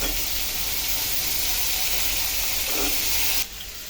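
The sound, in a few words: onion, garlic and chopped potato frying in a pan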